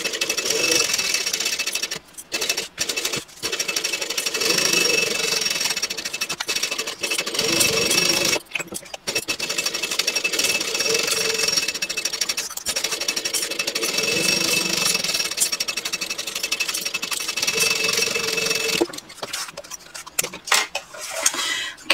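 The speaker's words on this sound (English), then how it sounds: "now I'm going to baste this all the way around using a 1/8 inch seam allowance" A sewing machine bastes a handbag all the way around with a 1/8 inch seam allowance, running in a long, nearly continuous rattling whir. It stops briefly a few times and sounds close and fairly loud.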